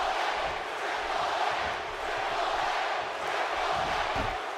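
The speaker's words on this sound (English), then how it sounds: "See the crowd really behind Triple H in this one." A big arena crowd from the wrestling video game WWE 2K17 roars steadily behind Triple H, a dense, continuous wash of cheering and shouting.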